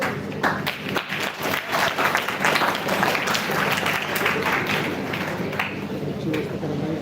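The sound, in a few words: applause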